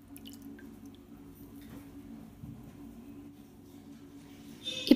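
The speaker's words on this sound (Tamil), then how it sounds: "நினச்சி அந்த ஈரம் போகிற வரைக்கும் லைட்டாக புழிஞ்சு எடுத்து வச்சுக்கோங்க." Slices of bread soaked in water or milk are lightly squeezed by hand in a kitchen, producing faint, quiet drips and soft wet squishes, followed by a louder brief squelch at the end.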